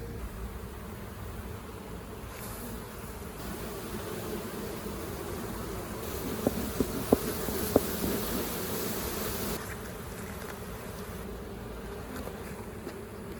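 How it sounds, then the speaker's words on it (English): Honeybees buzz over a hive frame of brood and honey in a dense, continuous drone that is close and steady, with a few faint knocks partway through and no talking. "Right in the center where all these bees are working."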